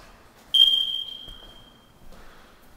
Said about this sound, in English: Failing batteries and smoke detector.